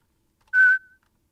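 A single short, pure synth tone pops in abruptly and cuts off fast, leaving a brief faint trailing echo.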